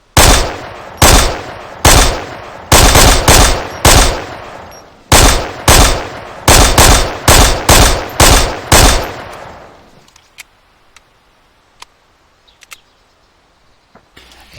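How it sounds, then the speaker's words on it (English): M1 carbine shots in an ArmA 3 war mod, the sound taken from Band of Brothers: about fifteen loud, crisp single shots in a quick, uneven series, then quiet with faint clicks and small handling noises. "that's from the movie Band of Brothers, the gun sound for that"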